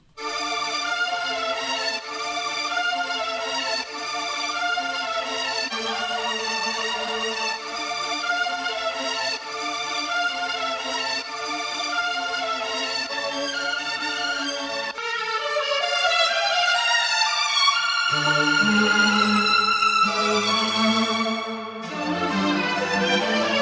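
A looped, chopped vinyl-style music sample with sustained tonal harmonies that shifts abruptly partway through into new, louder pitched segments.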